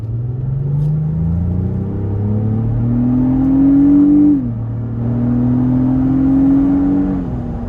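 A 2026 Lexus GX 550 accelerates hard in sport mode, its engine and exhaust droning upward in pitch through one gear, dipping at a shift, then climbing again, heard loud from inside the cabin.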